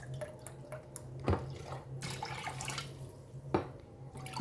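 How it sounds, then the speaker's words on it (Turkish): Grape vinegar poured into a container while making homemade cabbage pickle, a quiet trickling liquid sound with a few louder splashes and clinks in a still room. "3 su bardağı dolu dolu klasik su bardağına üzüm sirkesi koyuyorum"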